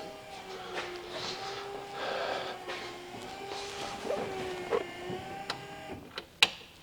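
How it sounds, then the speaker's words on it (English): In a classic car, an electric pump runs with a low, steady motorized whir, joined by faint clicks and handling noises and a few sharp taps near the end. "If I push this button, I should potentially hear the pump"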